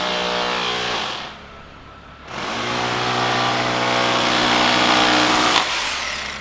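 Engine of an excavator scraping ground on a building site in Trinidad and Tobago, a loud sustained droning whine that drops away briefly, then returns steady and harsh.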